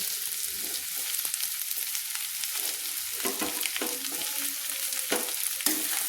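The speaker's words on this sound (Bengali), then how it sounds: "টমেটোগুলো দিয়ে একটু নেড়ে নিচ্ছি।" Sliced tomatoes sizzle and fry in a hot pan with oil, with steady crackling and occasional scraping clicks as they are stirred close by.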